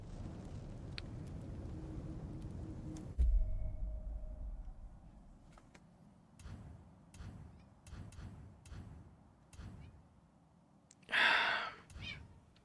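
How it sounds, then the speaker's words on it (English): A pet cat meows in the finale of God of War Ragnarök: one clear, fairly loud meow near the end, after quieter ambient stretches with soft breaths and small movement sounds. "So I hear my cat."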